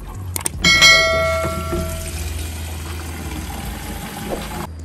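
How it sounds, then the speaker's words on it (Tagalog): Water runs from a tap into a repaired plastic bike water bottle in a bathroom, a steady close pouring and filling sound, with a few knocks and a bright ringing clink as it starts, no talk. "Subukan natin lagyan ng tubig."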